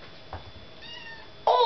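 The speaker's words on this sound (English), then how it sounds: "Are you meowing?" A kitten gives a short meow, then a louder, higher meow right at the end, close and clear in a quiet room.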